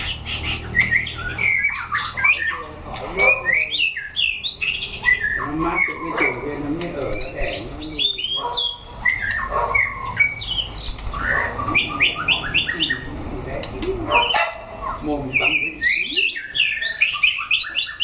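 A shama bird sings up close in rapid, varied whistled phrases with chirps and squawks, set against steady wind in an outdoor bird cage, with occasional voices in the background.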